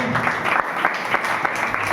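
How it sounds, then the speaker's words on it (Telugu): A church congregation at a Sunday service claps together, a dense, steady burst of applause filling the room with a few louder individual claps standing out. "చప్పట్లు కొట్టండి."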